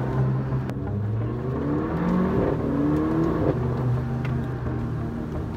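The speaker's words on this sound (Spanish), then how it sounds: "Suena increíble este carro" Mercedes-AMG A45 hot hatch engine revving hard under acceleration, heard up close from the cabin, rising and shifting tones in steady waves with no talk.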